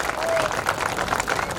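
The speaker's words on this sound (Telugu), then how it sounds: "అందరికీ ఆయన కోసం ఒకసారి క్లాప్స్ కొట్టండి ఒకసారి" An audience at a bodybuilding championship claps and cheers in a dense, steady burst of applause that fills the whole short moment.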